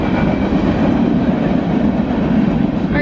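A train rumbles past nearby, a loud steady roar of wheels and rail noise that holds constant throughout.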